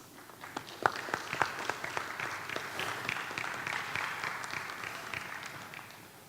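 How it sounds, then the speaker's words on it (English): A conference audience gives a round of applause, a soft, fairly distant patter of many hands with a few sharper individual claps standing out, steady throughout and fading slightly at the end. "please join me in giving them a warm round of applause"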